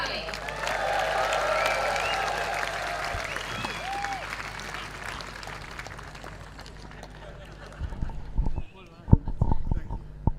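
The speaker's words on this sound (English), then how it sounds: "Please give a big hand to Master Bahrami." A crowd applauds tennis player Mansour Bahrami at the Giorgio Armani Tennis Classic with loud, sustained clapping that fades after about seven seconds, followed by a few scattered, sharper knocks and claps.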